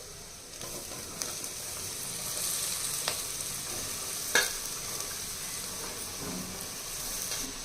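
Vegetable pieces fry with turmeric in oil in a pan, making a steady, moderate hiss and sizzle, with an occasional utensil clink and stir; no one speaks.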